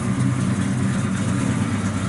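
A 1970 Plymouth Duster's 408 V8 exhaust idles with a deep, steady, thumping rumble, close and continuous, with no voices over it.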